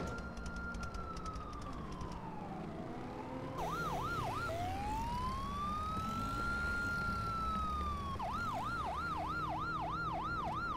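Police sirens wail and yelp in the mobile game Gangstar New Orleans, with sweeping rising and falling tones and quick warbling bursts that continue loudly over steady traffic and engine noise, with no speech.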